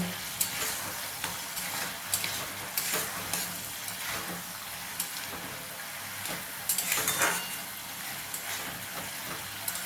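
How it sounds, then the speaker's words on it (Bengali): Fried fish head, from a rohu (katla) fish, sizzles and is stirred with spices in a wok, with close, steady frying crackle and irregular scraping strokes of a spatula against the pan. "এবারে মাছের মাথা ভেজে রেখেছিলাম, সেটা আমি কড়াইতে দিয়ে মশলার সঙ্গে ভালো করে কষে নেব।"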